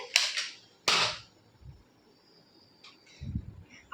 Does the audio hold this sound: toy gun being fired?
yes